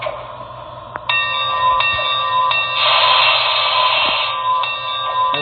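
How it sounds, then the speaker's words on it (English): Brass Broadway Limited Santa Fe Blue Goose model locomotive rings its bell in a steady run of clear, bright metallic strikes, close and fairly loud, over a low background hum. "Has a beautiful bell."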